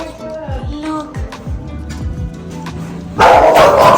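Many dogs bark over each other in a large animal shelter in Miami, making a dense, echoing chorus of deep barks and yips, with a louder surge of barking toward the end and faint human voices underneath.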